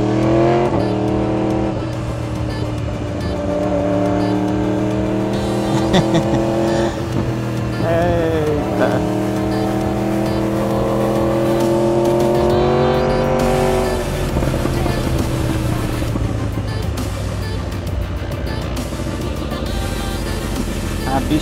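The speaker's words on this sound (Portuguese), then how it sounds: "o povo deve ficar doido com o barulho de escape" A loud Ducati Diavel motorcycle engine revs and roars up close, its exhaust note rising and falling in repeated bursts as it accelerates; a voice briefly exclaims.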